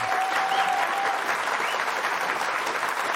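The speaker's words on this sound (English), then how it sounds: "Can we give him a round of applause?" A studio audience at a Fox Business taping breaks into a round of applause, dense and steady clapping that fills the whole stretch without any talking over it.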